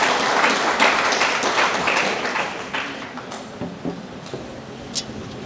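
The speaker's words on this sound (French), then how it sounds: "Je pense que c'est un dernier applaudissement à Bali." Audience applause at a graduation ceremony, a dense burst of clapping that starts loud and gradually thins out, with scattered individual claps near the end and some faint voices.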